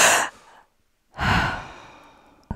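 A deep breath pushed out through the mouth in two full, airy exhales split by a short silence, close and fairly loud, with a faint click at the end.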